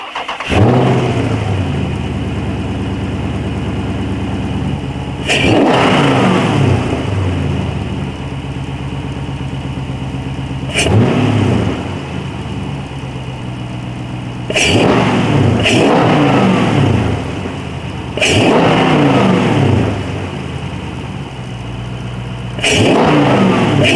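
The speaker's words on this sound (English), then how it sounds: "There's some of the sound clips of the air intake." A car engine with a large aftermarket cold air intake, in a widebody Dodge Challenger Scat Pack, revs repeatedly in loud bursts every few seconds, each rise roaring then dropping back to a steady idle between.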